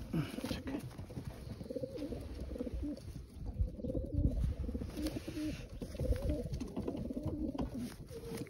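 A red racing pigeon coos in a loft, its soft throaty rolling calls repeating close by over a busy background of other pigeons cooing and fluttering.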